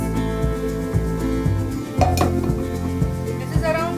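Cooked rice is added to a pan of vegetables with vinegar and soy sauce and stirred in for veg fried rice, giving steady scraping and clinking of a utensil against the pan in regular strokes about every half second, close and fairly loud.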